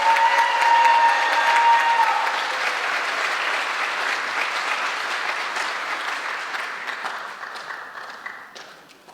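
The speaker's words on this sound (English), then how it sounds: "One more round of applause for all these fantastic scientists" Hearty applause fills a hall at a class of 2025 senior awards night, loud and dense at first with a faint tone lingering underneath, then slowly thinning out as the clapping trails off near the end.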